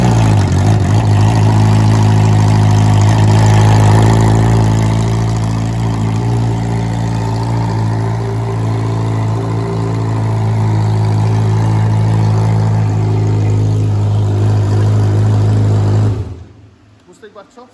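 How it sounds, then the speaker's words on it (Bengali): A Kawasaki Z900 motorcycle engine idles loud and steady with an incomplete, open exhaust and no full system fitted, giving a deep continuous drone with slight rises before it cuts off abruptly near the end. "চলো এবার একটু সাউন্ডটা শোনাই, মানে without exhaust line, without exhaust, incomplete এক্সস্টে বাইকের সাউন্ডটা কেমন"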